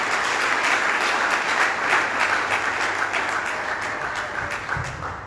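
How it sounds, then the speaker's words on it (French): An audience at a church sermon applauds for Joris and Nancy, a dense, sustained burst of many hands clapping that fills the room and slowly tapers toward the end. "Est-ce qu'on peut acclamer Joris et Nancy?"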